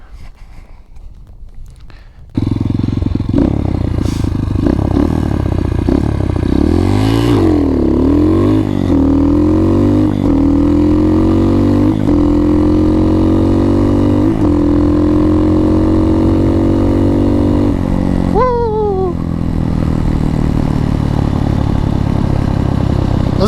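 An X-Pro Titan motorcycle engine roars loud and close, revving hard with rising and falling pitch sweeps as it shifts up through the gears and back down, then settles near the end.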